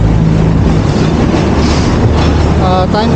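A light rail train rolls past a street corner with a loud, continuous rumbling roar, and brief squeals and clatter from the wheels near the end.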